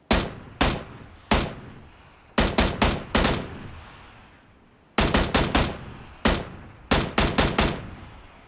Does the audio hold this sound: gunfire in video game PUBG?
yes